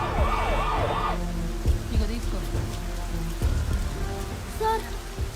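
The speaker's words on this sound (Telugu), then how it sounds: "అంబులెన్స్ సౌండ్ వినిపిస్తుంది కదా." An ambulance siren wails in a fast rising-and-falling pattern for about a second at the start, then steady heavy rain hisses on surfaces amid stalled traffic in a jam, with a few faint tones and thumps under the downpour.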